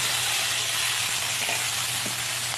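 Squash (kalabasa) heats in a pan with a constant, dense sizzle, close up, with faint scraping taps from a utensil now and then.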